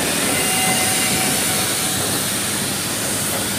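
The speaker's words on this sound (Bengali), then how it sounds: "একটা লোকোমোটিভ যাচ্ছে" A locomotive passes at Howrah station in a continuous loud broadband rush and roar that stays steady throughout, with no voices.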